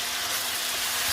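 Spices sizzling and frying in a heavy-bottomed pan over fairly low heat, turmeric among them, while being stirred; a steady, close hiss holds through the whole moment with no talking.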